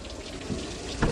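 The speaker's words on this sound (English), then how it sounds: "Now the water's coming out." Water gushing steadily from a hose during a cooling system flush on a 1998 Jeep Cherokee XJ, a continuous loud splashing rush with a brief louder surge near the end.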